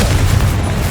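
The Confringo blast spell in Hogwarts Legacy erupting in a loud, close, low booming explosion that rumbles for about a second.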